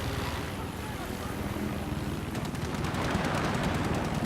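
A helicopter in a multiplayer shooter match on the Resort map thrums with a steady rotor chop that grows louder, mixed with game gunfire and ambient noise.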